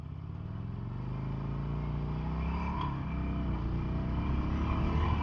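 Small sport motorcycle rolling over train tracks: a close, steady engine drone rises gradually in pitch and loudness as the rider accelerates, with a faint clatter midway, no talk.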